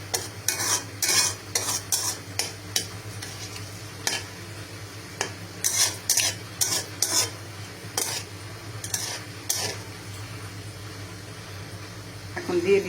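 Spices frying in a pan for a vegetarian chhena and vegetable dish, a steady sizzle punctuated by rapid, repeated spatula scrapes in bursts throughout.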